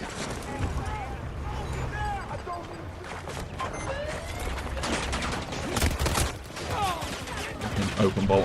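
Dense, crackling gunfire from Battlefield 2042 multiplayer, including an LMG with an open bolt, sounds in fast overlapping bursts with distant shots and engine rumble, while someone talks over it.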